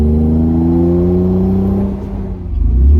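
A first-generation Acura NSX engine hums steadily with a smooth, low drone while driving on a road, then revs up slightly near the end; close and continuous, no talking.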